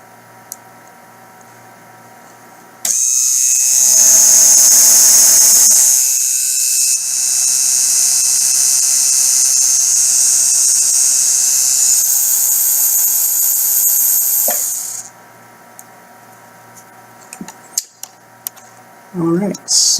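A 6 Series unit's drive motor whirs steadily at a high pitch for about twelve seconds, loud and close, then cuts off, followed by a few faint clicks and handling noises.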